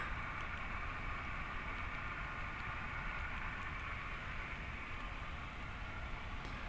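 An HO scale model train rumbles past at a distance, a steady low roar with hissing wheel noise that holds evenly throughout.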